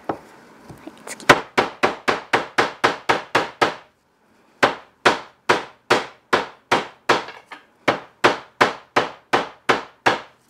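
Steady, sharp strikes of a flat hammer pounding fresh indigo leaves into cloth on a flat board, about a dozen in quick rhythm, a brief pause, then another even run of blows, close and loud.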